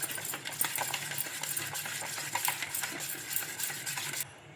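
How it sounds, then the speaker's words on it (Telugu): A spoon mixes a thick semolina and wheat flour batter in a bowl, giving close, continuous scraping and soft clinking strokes that end abruptly. "1/2 కప్పు బొంబాయి రవ్వ అయితే వేసుకొని ఇలా బాగా కలుపుకోవాలి."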